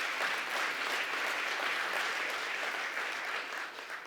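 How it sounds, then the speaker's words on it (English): Audience applause at a community event unveiling a play and education center expansion, a dense burst of clapping from a sizable crowd that holds steady and then begins to fade near the end. "So, round of applause for that, please."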